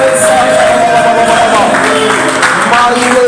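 Church congregation at a Siloe service in a French-speaking church cheering and applauding for Jesus, a dense, continuous roar of clapping and raised voices with some singing-like tones, loud and close throughout.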